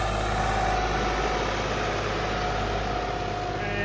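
A 1984 model tractor engine idles with a steady low rumble, continuously and evenly throughout, close and fairly loud.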